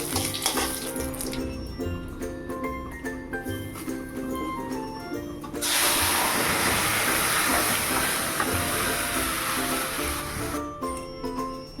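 Boiled dal poured into a hot oil tempering of dried chili, bay leaf and black cumin bursts into a loud, sudden sizzle midway through. The hiss stays strong and steady before easing off, with a quieter cooking background before it starts.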